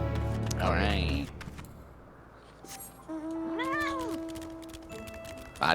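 A cat in the game Final Fantasy XIV gives a couple of clear, close meows with rising and falling pitch, separated by a quiet stretch, over a low game background with a faint steady tone.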